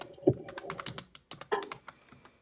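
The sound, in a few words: computer keyboard typing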